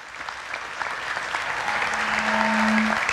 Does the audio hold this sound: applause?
yes